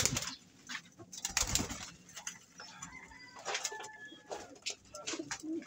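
Domestic pigeons in a fancier's loft coo softly and repeatedly at close range, with occasional wing flutters and light rustling in the background.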